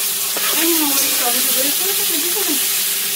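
Fish sizzles in a hot frying pan, a continuous loud hiss of oil that runs through the whole stretch while voices are heard over it.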